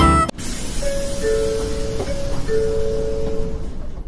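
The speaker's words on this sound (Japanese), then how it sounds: "これが福岡市営地下鉄の2線型です。" Fukuoka City Subway 2000 series train, a sharp thump then steady hum with tonal whine that rises and holds, fairly loud and close, no talking.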